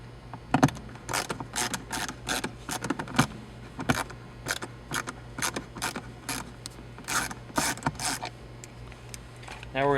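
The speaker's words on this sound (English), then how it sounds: "We're going to take these 2 front screws out." Screws are worked out of a Hyundai Elantra center console with a ratcheting driver, producing bursts of close, dry clicking and ratchet ticks over a faint steady hum, with pauses between turns.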